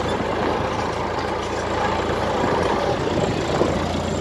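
A tractor in third gear runs at low throttle while plowing a pistachio field in Urfa, its engine a steady, close, dense rumble that holds evenly without pauses.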